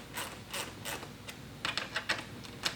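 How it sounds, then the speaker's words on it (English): A 4mm Allen key snugs button head screws into T-nuts on a 2022+ Toyota GR86 splash guard, giving quiet, scattered clicks and small ratcheting ticks, close up, with brief pauses between turns. "we're going to take our 4mm Allen key for the button heads, and we're going to snug those down just lightly"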